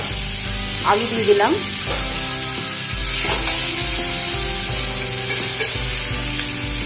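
Potatoes and pre-fried jackfruit hit goat fat in a pan, giving a steady close sizzle with bursts of stirring and scraping; a voice speaks briefly early on.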